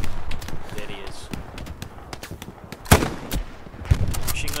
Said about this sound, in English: There's that machine gun, man.